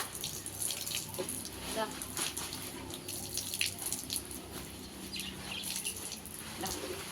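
Water runs and splashes steadily as a cloth bag is washed by hand at a tap, a continuous close rush with small drips, and a voice speaks faintly in the background.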